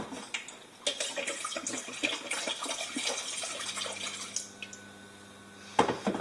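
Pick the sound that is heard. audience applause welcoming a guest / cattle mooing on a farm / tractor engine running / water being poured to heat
water being poured to heat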